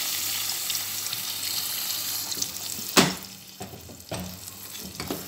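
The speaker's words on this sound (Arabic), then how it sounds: "كنجيو كنديروا شويه ديال الماء، مي ما كنكبوش فوق الدجاج" Water is poured into a hot pan of spaghetti with chicken and green peppers, near the side rather than over the chicken. A steady frying hiss breaks into a sharp splash and sizzle, followed by further bursts of pouring.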